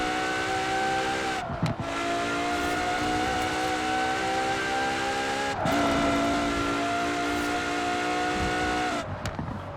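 A race car in Forza Horizon 4 tears along tight hilly roads, its engine revving high and steady through the gears with brief drops at each shift, loud and continuous with no speech.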